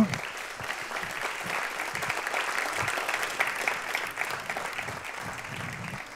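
An audience at an Occitan-language show in Albi applauds, a dense, steady clapping that fills the room for several seconds without a break.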